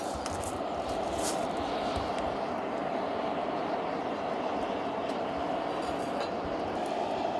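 Blacksmith's forge fire roaring steadily as metal heats in the coals, a continuous near broadband rush with faint crackles throughout.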